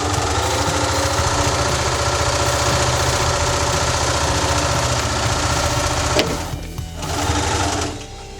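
A sewing machine stitching a pocket about an eighth of an inch from the edge, a loud rapid steady whir that stops near the end with a brief clunk as the needle halts.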